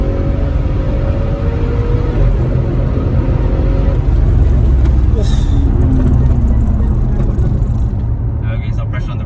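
Audi RS6 Avalanche, tuned to around 750 hp, heard from inside while driving fast: a loud continuous engine and road rumble with crackling pops through the exhaust, and voices talking over it.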